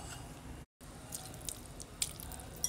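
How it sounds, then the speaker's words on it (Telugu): Small splashes of water poured from a spoon into a wet grinder holding soaked flattened rice for idli and dosa batter, a brief pour with a few soft drips. "ఒక 2 స్పూన్లు నీళ్లు పోసాను."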